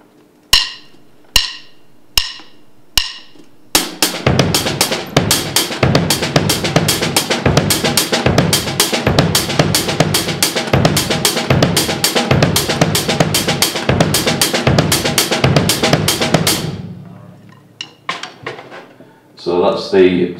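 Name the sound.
drum groove with hi-hats and snare ghost notes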